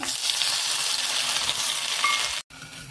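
Bitter gourd frying in mustard oil for shukto, a loud, close, continuous hiss and sizzle with a few light spatters, cutting off abruptly near the end before resuming more faintly, no speech.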